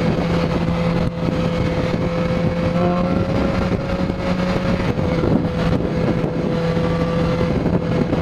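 A 2015 BMW S1000RR sport motorcycle with a stock exhaust can holds a steady, droning note at constant pitch throughout, loud and close, with broadband rumble and wind-like noise rather than distinct revs.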